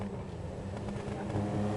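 A Benefactor Sterling GT Sports Classic engine in GTA V revs and drones steadily at close range, rising slightly toward the end, with no talking.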